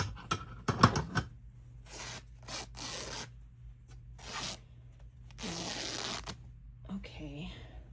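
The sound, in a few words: tearing vintage paper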